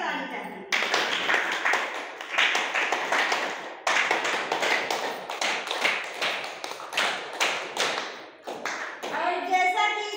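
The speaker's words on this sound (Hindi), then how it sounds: "इन हस्तियों के लिए जबरदस्त ताली चाहती हूँ" Audience clapping for honoured guests at a ceremony, a dense sustained burst of applause filling most of the clip, with a brief dip near the end.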